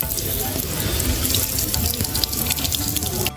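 Steady running water pours from a tap at a cave entrance where visitors wash their feet, a continuous close splash and rush with no talk, cutting off abruptly at the end.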